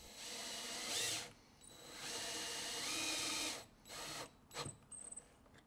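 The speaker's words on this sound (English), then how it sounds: "I don't screw this one in all the way first because I want to make sure that the second one gets lined up with the hole." Power drill driving a screw into wood, with several close whirring bursts of varying length, the last ones short and stuttering as the screw is snugged.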